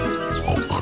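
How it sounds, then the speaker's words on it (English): Cartoon pigs oinking in a Thomas and Friends Magical Tracks video game, a short burst of grunts over steady background game music. "Oh no, some pigs have wandered off from the farm."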